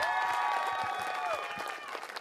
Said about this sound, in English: Ladies and gentlemen, let's applaud our College of Alameda president, President Melanie Dixon, for that special presidential address.